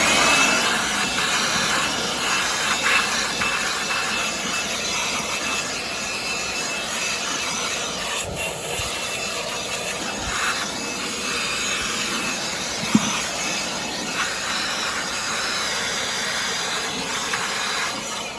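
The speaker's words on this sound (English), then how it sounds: "now we're going to get the blower and blow out all the dust and little small vegetation" A continuous loud hiss of a blower clearing dust and small bits of vegetation out of a central AC unit, steady and close for the whole stretch with a single sharp knock near the end.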